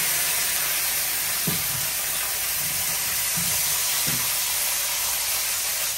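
Vegetables fry in hot oil with cumin seeds, a loud, steady sizzle and hiss throughout, broken by a few soft low knocks from utensils.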